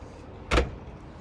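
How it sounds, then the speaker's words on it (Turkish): A Mercedes E200d trunk lid shuts with a single quick, solid thud, short and close, with a brief airy rush around the impact and nothing else audible. "Bagajımızı kapatalım."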